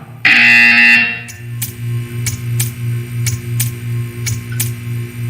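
A loud electronic buzzer sounds for about a second in the Portal 2 video game, followed by a low humming drone with a series of sharp evenly spaced clicks, no voices.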